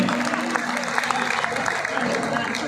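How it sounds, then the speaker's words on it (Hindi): An audience at a Hindi poetry gathering (kavi sammelan) claps in a continuous, crowded burst of applause, steady and fairly loud, with faint talk underneath. "बढ़िया बजाए, बजा तालियां बढ़िया वाली।"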